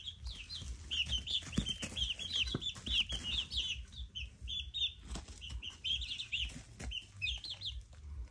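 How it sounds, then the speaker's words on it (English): Young roosters flap their wings in repeated fluttering bursts and cluck, with high, chirpy peeps running almost constantly over the low scuffling, close and moderately quiet. "These are the baby roosters."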